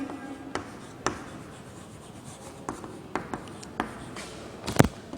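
Chalk or marker taps and scrapes on a classroom board during a lecture, with sparse sharp ticks and short strokes spread out over a hum of room noise, the last strokes loudest, and no talking.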